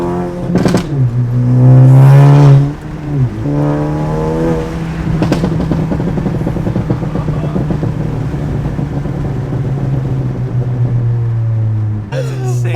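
A catless 10th-gen Honda Civic Si revs loudly nearby, then its exhaust drops into a long, droning burble, with excited voices talking over the engine.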